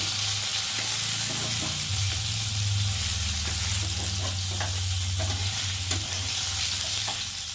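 Fried fish in a hot pan keep up a loud, dense crackling sizzle, punctuated by spatula stirring and scraping and a low rumble underneath, heard close with no voices.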